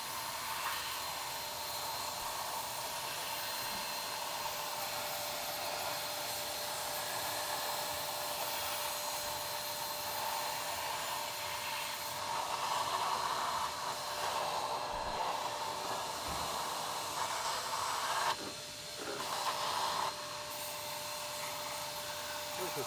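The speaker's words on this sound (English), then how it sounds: "This vacuum just lost its power." A shop vacuum roars continuously while walnut shell blasting cleans the intake side of a 2014 CC engine's injectors, a steady hiss-filled whine that briefly dips and surges partway through.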